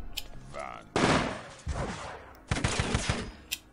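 Gunfire crackles in the squad-based tactical game UFO: Aftershock, a few loud bursts of rapid shots with short pauses between them, heard alongside sparse game sounds.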